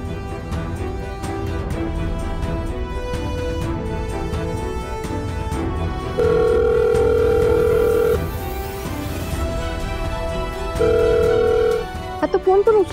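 A telephone ringing in a Marathi TV drama scene; two sustained electronic ring bursts a few seconds apart, fairly loud, over background music and some dialogue.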